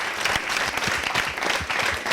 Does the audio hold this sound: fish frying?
no